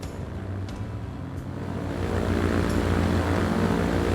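A propeller freight aircraft flies in Transport Fever 2, a steady droning engine hum with a low buzzing tone that swells slightly louder partway through and holds, with no one talking.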